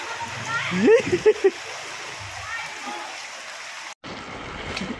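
Floodwater from Typhoon Kristine splashes and rushes in a steady wash, with a few brief voices rising over the flow near the start.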